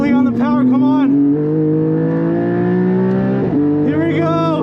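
A modded Porsche 718 GT4 engine pulls hard on track, its tone climbing steadily through a long acceleration before a quick gear change, loud and close inside the car while the driver talks over it.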